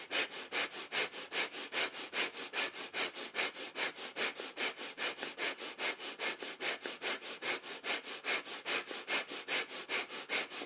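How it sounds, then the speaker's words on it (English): Rapid breath of fire yoga breathing: sharp, evenly paced nasal exhalations pump about four times a second, close and steady throughout with no talk. "let's hold this posture with a breath of fire"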